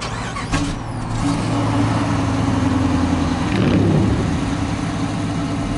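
A 2015 Dodge Charger R/T's 5.7-liter Hemi V8, nearly new, fires up by remote start with a short crank, then settles into a steady, fairly loud idle nearby.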